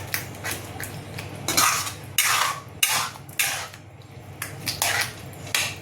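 Eggs for anda bhurji, seven small ones, being mixed in a pan with cutlery clinking and scraping against metal in a series of irregular bursts. The sound is close and moderately loud, with no voices.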